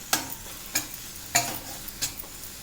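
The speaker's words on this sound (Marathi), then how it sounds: "तेल सुटेपर्यंत आपला हा मसाला भाजला आहे" Sharp stirring scrapes in a pan recur about every half second over a faint, steady hiss of spice paste frying in oil, with no voices.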